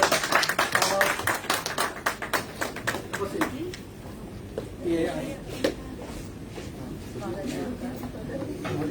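A crowd claps in welcome at the BJP party headquarters, quick rhythmic applause that fades after a few seconds into murmuring talk and scattered claps.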